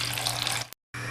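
Water runs from a tap into a cooking pot holding a cinnamon stick, cloves and garlic, a steady close splashing stream that cuts off abruptly, then resumes briefly after a short silence.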